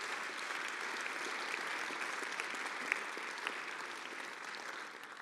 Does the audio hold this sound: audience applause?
yes